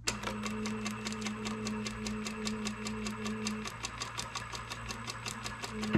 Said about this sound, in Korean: 여기서부터 이렇게 박아 줄게요